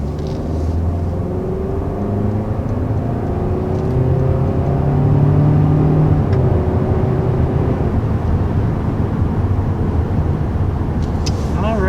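A 2020 Hyundai Sonata with a 1.6-liter turbo engine accelerates from a start, its loud, steady engine drone and road noise building and rising in pitch over several seconds.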